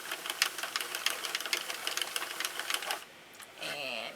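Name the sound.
cranking a row on a Sentro knitting machine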